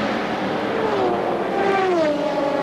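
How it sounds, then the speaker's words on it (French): A Maserati race car at the 2006 Spa 24 Hours roars steadily past, its pitch rising and then sliding down as it goes by, loud and continuous. "on attend maintenant la voiture d'Eric Van de Poel, la Maserati"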